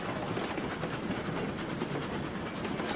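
A Cook Mogul steam locomotive in RailRoads Online runs steadily, with a dense continuous rolling rumble and faint rhythmic rail clatter throughout, fairly loud and with no talk.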